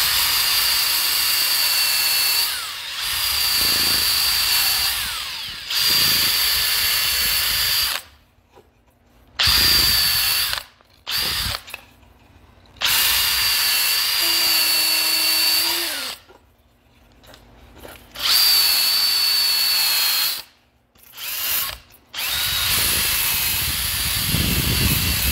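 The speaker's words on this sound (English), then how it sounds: "brace the drill, go high speed, and then drag the workpiece along it" A power drill spinning at high speed, its bit pressed against a workpiece being shaped for a CNC-made catch-all tray, whines loudly and steadily in several bursts separated by short pauses.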